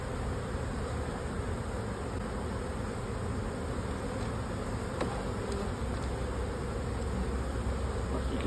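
A dense, steady hum of many bees buzzing together, close and continuous throughout.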